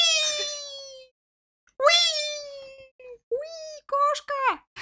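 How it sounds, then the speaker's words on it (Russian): Cat meowing in the GTA Online video game, several drawn-out, whining meows with gaps between them, close and clear. "Кошка."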